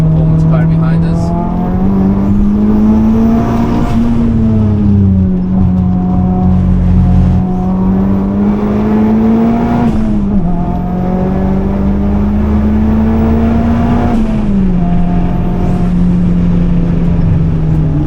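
Fast performance car on the Nürburgring, a strong engine drone that rises and falls steadily as it accelerates and shifts, loud and close throughout with no pause.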